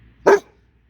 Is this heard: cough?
no